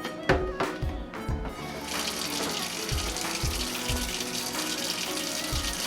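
Running water splashes steadily as car fuel injectors pulled from a 1989 Honda Accord are washed with soap and water, with clattering knocks of the parts against a sink under the flow.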